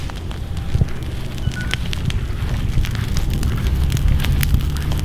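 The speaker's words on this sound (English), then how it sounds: "throwing weeds in the fire" Weeds thrown onto an outdoor fire burn with a steady crackling roar, dense popping and snapping over a continuous rushing hiss, close and loud throughout.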